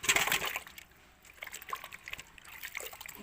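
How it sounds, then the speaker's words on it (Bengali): Soaked biuli dal being rinsed in water, with soft trickling, sloshing and splashing close by, busier at the start and continuing in small splashes throughout. "একটু ধুয়ে নেব, ডালটা সারাদিন ভিজুক।"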